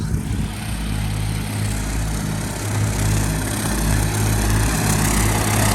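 Kubota 4x4 four-cylinder ride-on lawn mower, a 2024 machine, driving with a steady loud engine drone and a deep rumbling hum that holds throughout with slight swells, no talk.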